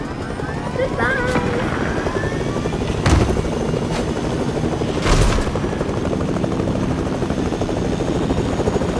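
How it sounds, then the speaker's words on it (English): A helicopter in the video game Fortnite drones steadily and loudly throughout, with a couple of short, sharp bursts cutting through the rotor noise. "I'm gonna go to the helicopter now."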